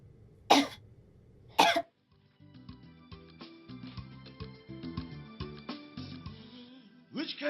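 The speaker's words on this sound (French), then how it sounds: "Pourquoi tu tousses?" Two loud, harsh coughs from a woman in a Nigerian French-language drama, followed by soft melodic background music and another breathy sound near the end.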